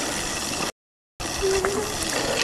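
Water rushes steadily out of the drain plug of a pool fire pump, a loud continuous flushing noise broken by one short gap of silence before the gush resumes.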